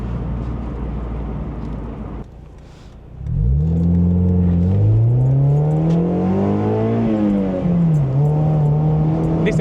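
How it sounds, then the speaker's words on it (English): A Mazda MX-5 NC with an aftermarket exhaust fires up after a brief quiet pause, then revs up and down in several smooth sweeps, loud and close with a throaty, rising and falling engine note and no talking. "This exhaust is really, really good."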